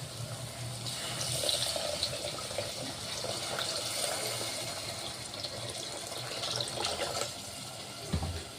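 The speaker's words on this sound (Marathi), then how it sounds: "आणि आता मी पाणी टाकणार आहे" Water pours steadily into a cooking pot holding stuffed brinjal masala curry, giving a continuous splashing, gushing rush at moderate level that ends with a brief clink near the end.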